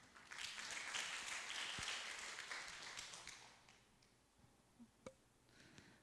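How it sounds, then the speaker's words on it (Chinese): Audience at a school graduation ceremony gives a faint, fairly distant round of applause that fades out within a few seconds, followed by a couple of soft taps in a quiet hall. "好，鼓掌一下。"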